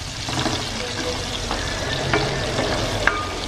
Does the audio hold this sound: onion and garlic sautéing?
yes